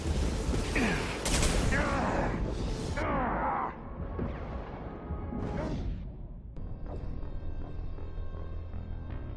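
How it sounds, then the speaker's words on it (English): Bursts of automatic gunfire and sharp weapon blasts ring out in a Mass Effect 2 firefight, loud and close for several seconds before giving way to lower mechanical sounds and a lingering hum, with a voice calling out during the action. "Taking fire."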